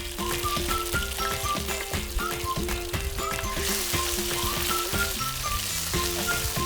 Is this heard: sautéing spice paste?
yes